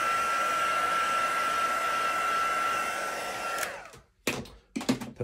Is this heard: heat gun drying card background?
yes